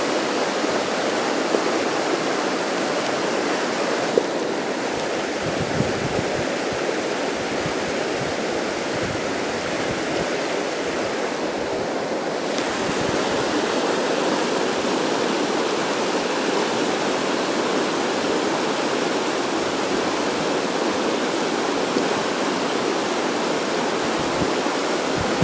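River water rushes and splashes steadily over rocks, a dense, continuous broadband roar that stays loud and even throughout, with no voices.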